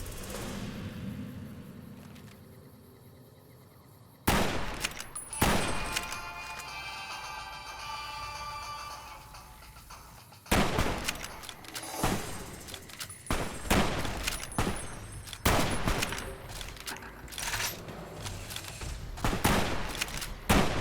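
Rifle gunfire in Fallout: New Vegas at Bitter Springs: a quiet stretch, then repeated loud, sharp shots in irregular bursts that keep going to the end.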